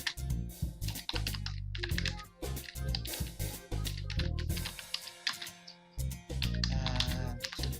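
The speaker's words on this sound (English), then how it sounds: "let me type in something like" Close, quiet clatter of a computer keyboard as text is typed into an Adobe Photoshop template, irregular bursts of key clicks with short pauses between them.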